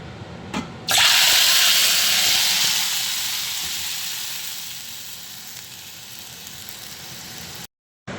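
Ground masala for a fish curry hits hot oil with popped mustard seeds, setting off a sudden loud, close sizzle that hisses steadily and slowly settles, with a brief drop-out just before the end.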